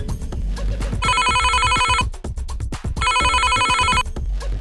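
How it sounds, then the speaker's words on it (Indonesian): Telephone ringback tone on an outgoing call, two loud bursts of ringing about a second long separated by a pause, with low background rumble and some faint voices. "Ah, ntar kita telepon Rita."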